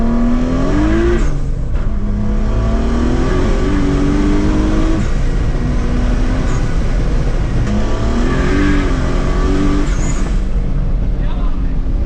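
A big-turbo Nissan 300ZX sleeper with tall gearing roars loudly throughout, its engine note climbing and settling through repeated revs, with people talking over it.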